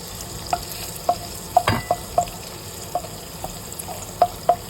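Butter melts and sizzles in a frying pan before vegetables go in, a steady soft crackle broken by a few sharp pops and light utensil clicks, close and fairly quiet, with no talking.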